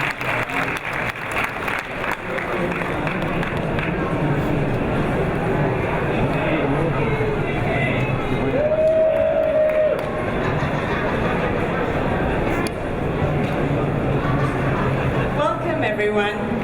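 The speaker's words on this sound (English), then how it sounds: "Ladies and gentlemen, a round of applause." An audience at the Global Village opening ceremony applauds, and the clapping blends into a dense crowd wash with voices talking over it for most of the stretch.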